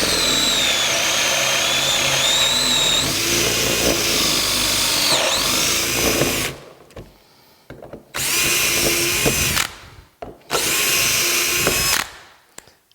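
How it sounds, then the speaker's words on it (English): Power drill boring Euro hinge cup and pilot holes through a jig for a lathe upper cabinet, loud and close, a long continuous run followed by two shorter bursts separated by near silence. "So all you got to do is drill them."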